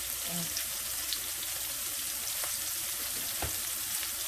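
Food stirred while frying in a pan during Spanish rice and sautéed corn cooking, a dense steady sizzle with faint clicks of the utensil, no voices.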